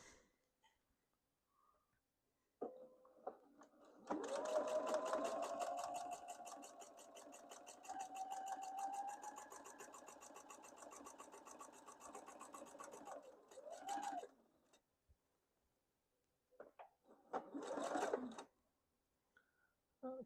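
Sewing machine stitching a quarter-inch quilt seam, a rapid rattling run of needle strokes that holds for about ten seconds, followed by a brief second burst after a pause, close and clear.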